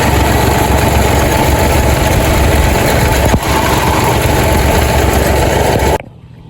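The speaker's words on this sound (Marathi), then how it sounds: "आता बघू शकता आवाज येतोय ट्रॅक्टरचा" A farm tractor runs steadily for spraying an onion field, its loud, continuous engine drone staying close and even until it cuts off abruptly near the end.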